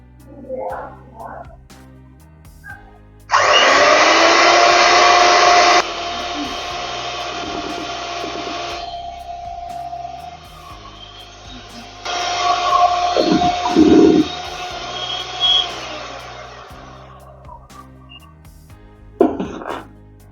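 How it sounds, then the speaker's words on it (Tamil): Electric beater whisking a beaten egg mixture for cake batter, a loud steady whine that runs continuously for several seconds, stops briefly, then resumes with rougher spattering, with speech before and after. "இப்போ அதை போட்டு திருப்பி பீட் பண்ண போகிறோம்"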